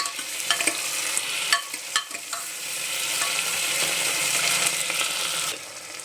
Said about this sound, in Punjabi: ਹੁਣ ਅਸੀਂ ਪਾ ਦਾਂਗੇ ਟਮਾਟਰ ਇਹਨੂੰ ਵੀ 2 ਮਿੰਟ ਭੁੰਨਾਂਗੇ ਟਮਾਟਰ ਨੂੰ ਵੀ